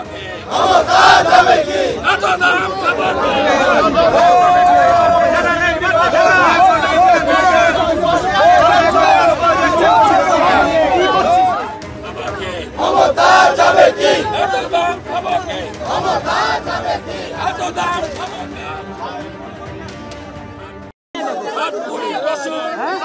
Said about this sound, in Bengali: এত দাম খাবো কি স্লোগান দিয়ে ওয়াকআউট বিজেপি বিধায়কদের পাল্টা বিজেপির বিরুদ্ধে স্লোগান তৃণমূল বিধায়কদের